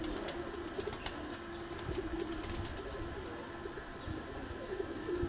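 Imamdin pigeons coo softly on a rooftop breeding setup, with intermittent wing flaps and light clatter over a constant background hum, moderately near.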